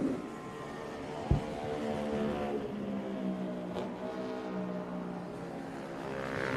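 Vintage superbike race motorcycles at an AHRMA event exit a turn in a distant, blended engine drone that rises and falls as they pass, with a sharp knock near the start.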